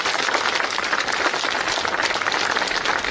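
A crowd at an outdoor rally for the Tavush for the Homeland movement claps together in dense, sustained applause, loud and even across the whole stretch.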